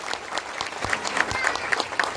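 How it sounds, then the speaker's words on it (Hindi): An audience gives loud, steady applause for upline Varun Pahan at a Safe Shop direct-selling gathering, clapping continuously throughout with a little crowd noise. "एक बार जोरदार ताली होना चाहिए"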